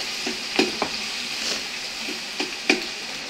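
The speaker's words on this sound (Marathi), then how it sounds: "कांदा टाकलेला आहे आणि हा आता ढवळायला लावलेला आहे कांदा" Chopped onion sizzling steadily in a hot pan while a spoon stirs it, with a few distinct scraping clinks against the pan over a continuous close frying hiss, no talking.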